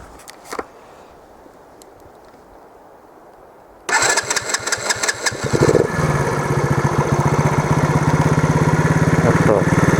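A moped engine starts abruptly after quiet forest ambience, then runs with loud, rapid, pulsing revs as the rider sets off through the woods.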